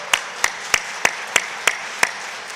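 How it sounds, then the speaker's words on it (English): Crisp claps ring out at a steady, evenly spaced pace in a city council meeting chamber, about eight sharp hits in under three seconds with a light room hum between them and no voices. "So let's give Councilwoman a round of applause."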